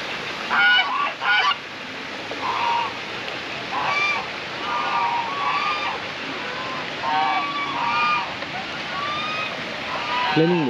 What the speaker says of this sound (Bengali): ফ্লেমিঙ্গো পাখি এটি মনে হচ্ছে নাম